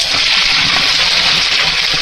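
Hot pasta water for a beef and bratwurst mac and cheese pours out in a steady, loud, broadband gush as it drains, continuous splashing without pause and no voices over it.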